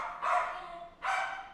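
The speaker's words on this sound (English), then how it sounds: "Sorry about the annoying dogs." Dogs bark twice in the background, each a harsh, sustained bark of moderate loudness with a short pause between, and no talk over them.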